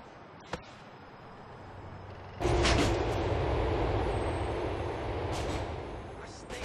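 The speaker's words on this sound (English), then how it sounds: "The train is approaching Frankfurt High Station." A subway train in GTA IV approaches a station with a sudden loud rumble and rushing hiss, along with brief metallic squeals and clatter. A quieter cabin hum comes before it.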